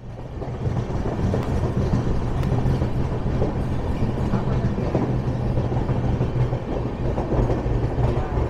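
The 13151 Jammu Tawi Express runs on its rails, heard from inside as a constant low rumble with light rhythmic clacking of wheels over track joints, steady and close, with no talking.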